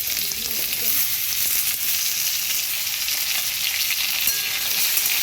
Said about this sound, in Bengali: এবার এটা একটু হালকা করে ভেজে নেব